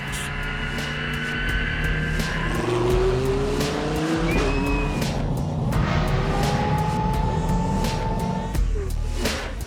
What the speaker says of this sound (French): retour au circuit en fin d'après-midi à bord de la nouvelle R8